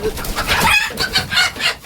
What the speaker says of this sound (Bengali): তো অনেক ভালো লাগে যে আমার খামারে দেশি মুরগি আছে